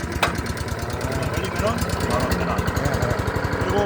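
A small engine on an MC40 engine-powered branch shredder runs with a steady, close, chugging rhythm that builds slightly in loudness, while a person talks over it.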